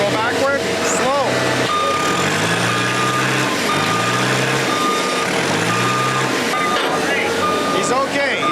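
A truck backing up slowly on a New Orleans work site, its backup alarm beeping at a steady pace over a loud engine rumble, while people talk and call out nearby.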